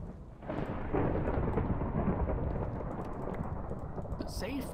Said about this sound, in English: Okay, we got thunder.